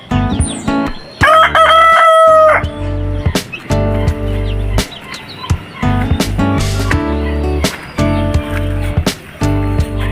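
A native chicken rooster crows loudly and close by with a long harmonic call near the start, followed by clucks and barnyard clatter with scattered knocks and bumps.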